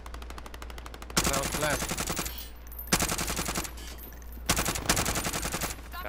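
Gunfire in Call of Duty: Modern Warfare rattles in loud rapid automatic bursts with brief gaps between them, while a player speaks briefly over the shooting.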